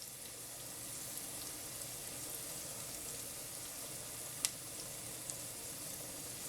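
Food cooking in a pan gives a steady, even sizzle that holds through the whole stretch, with one brief sharp clink partway through and no talking.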